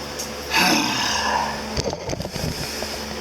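A 1979 Triumph Bonneville T140D Special motorcycle, just restored with a repaired clutch, starts up and runs nearby, a steady engine drone with uneven throttle blips and rattles.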